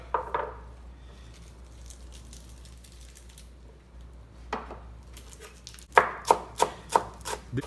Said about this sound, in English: And here we got sawtooth leaves. These leaves are very spiky. It gives it the aromatic to the soup. So we're gonna chop it up.